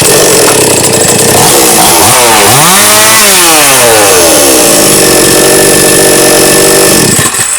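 A Brigadir petrol chainsaw, just fitted with a new cylinder, drive and crankshaft seal, starts and revs loudly and close up, its engine pitch sweeping up and down through a couple of throttle blips before settling into a steady run.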